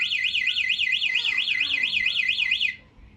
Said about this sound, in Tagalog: Ito yung alarm niya, mag-a-alarm na kagad siya pag pinindot nyo to.